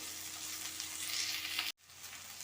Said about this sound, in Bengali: ক্যাপসিকামগুলো দিয়ে দিলাম ক্যাপসিকামটা হালকা হালকা ভাজা হবে